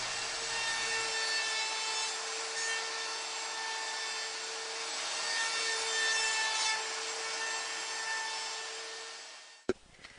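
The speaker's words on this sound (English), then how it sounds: "Each stick needs 4 passes through the router table" A router table spins at steady high pitch as wooden dowel blanks are fed through to round them, a continuous loud machining whine with rough wood-cutting texture running unbroken for about nine seconds before cutting off with a sharp clack.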